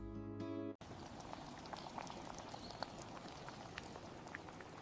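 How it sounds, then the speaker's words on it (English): Thick maize pap simmers covered over low heat, giving a steady bubbling and soft plopping that continues throughout, preceded by a short tonal sound at the very start. "Next, cover and allow the pap to cook."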